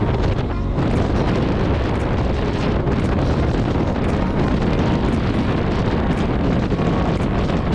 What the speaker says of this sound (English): once we got off the motorway, we realised it was really windy